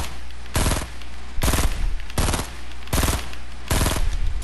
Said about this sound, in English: Shoot 10 bullets, only one of them hits him.